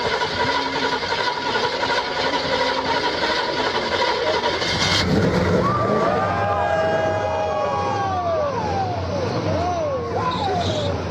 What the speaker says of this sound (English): you have to restart it. This is the process it takes a couple cranks.